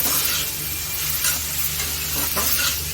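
Shredded cabbage is stirred in a hot frying pan, a continuous bright sizzle with repeated scraping strokes of the spoon, close and steady with no talking.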